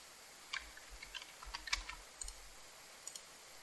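Light typing on a computer keyboard while entering data into a form: scattered, quiet key clicks come at an uneven pace over a faint background hiss.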